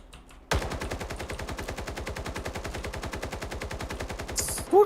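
Sustained rapid gunfire in the video game The Day Before: an unbroken, evenly spaced stream of loud shots lasting several seconds, heard close and without talk.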